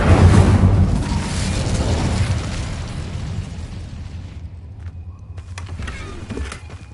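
Fiery Incendio spell cast in the Hogwarts Legacy video game, a loud whooshing burst of flame that rumbles and slowly fades over several seconds.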